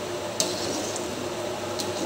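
A pot of boiling ginataan with softened ingredients being stirred, giving soft wet squishes and two sharp utensil taps against the pot over a faint bubbling background, with no talking.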